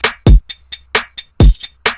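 Pop-style trap drum beat programmed in FL Studio, with deep booming kicks, layered snappy trap snares and bright hi-hats in a short, punchy two-second loop, loud and close.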